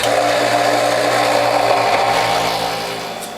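A WHF juicer grinds steadily as carrot pulp and garden produce are forced through, a loud continuous motorised whir with a low hum that eases slightly toward the end.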